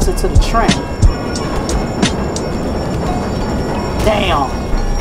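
Train passing during a street fight in the Def Jam: Fight for NY video game, a rushing rumble with clattering hits and bursts of game effects, heard alone for a few seconds.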